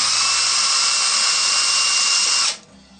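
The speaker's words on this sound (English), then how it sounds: "you'll feel your drill bit touching the inner wall as it pokes through" A steady high-pitched drill whine runs continuously through an aluminum beer bottle, then abruptly stops as the bit breaks through, leaving near silence.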